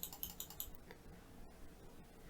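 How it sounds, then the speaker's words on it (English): A computer mouse clicks rapidly at a trading desk, a quick burst of sharp, faint clicks at the start followed by a few scattered single clicks in a quiet room. "That was me clicking too fast again."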